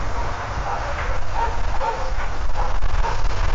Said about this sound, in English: it's not great, but I can definitely hear some dogs barking.